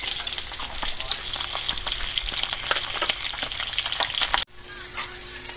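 Bitter gourd sautés in leftover fish-frying oil, a loud, dense, continuous sizzle with crackling spatter, briefly dipping near the end before the frying hiss carries on.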